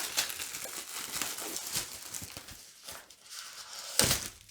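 A package being cut open up close, with crinkly plastic and cardboard rustling, scraping and a sharp tear near the end, at a soft level with no talking.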